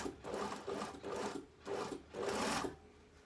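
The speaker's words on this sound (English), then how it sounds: "I'm just going to carry on sewing this dart" A sewing machine sews a dart in fabric in four short, close bursts of stitching with brief pauses between them.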